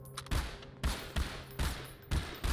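Gunfire in Half-Life 2, four loud, evenly spaced shots close by, each with a short echoing tail.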